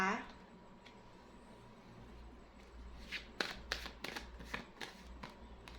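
Tarot cards are shuffled and drawn, with a quick flurry of crisp riffling snaps near the end following a quiet stretch of faint handling.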